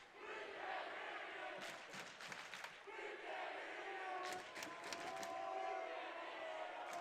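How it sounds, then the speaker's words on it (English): A large crowd roars and cheers at a Mountain View vs Los Altos school volleyball game, a continuous loud wash of voices with sharp bursts of yelling and clapping rising and falling throughout. "You can hear the enthusiasm. This is a big crowd for a school night."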